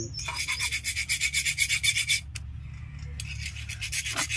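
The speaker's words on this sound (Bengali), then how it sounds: "এইটা একটা হালকা ঘষো তো, এই ফাইল দিয়ে মুখটা সমান করতে হবে" A hand file rasps back and forth to level the end of a Kirloskar 95 diesel engine part, about a dozen rhythmic strokes up close, a short pause, then a few more scraping strokes.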